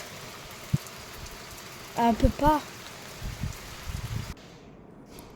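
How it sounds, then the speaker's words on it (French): Rain and hail pelt down together in a heavy thunderstorm, a dense steady hiss with scattered sharp ticks. A voice speaks briefly over it before the downpour abruptly cuts out near the end. "Il pleut et il grêle en même temps."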